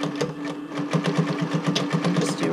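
Sewing machine stitching straight across the folded band of a swim top, a steady mid-pitched motor hum with a rapid, regular needle chatter running continuously and close, with no talking.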